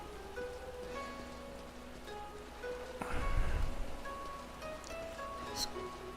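Steady rain in the Final Fantasy XIV game world patters and hisses continuously, with a louder rustling burst midway and faint tonal game sounds layered over it.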